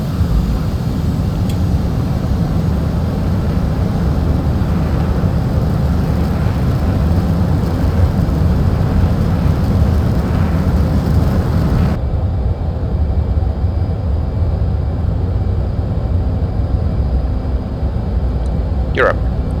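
An F/A-18C's twin jet engines roar on an afterburner takeoff in the DCS flight sim, a loud, dense rumble that holds steady before the top end drops away as the burners cut back.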